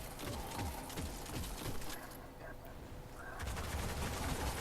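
Rapid volleys of gunfire crackle through a Destiny: The Taken King firefight in the Buried City, with dense repeated shots and explosive bursts forming a loud, continuous barrage.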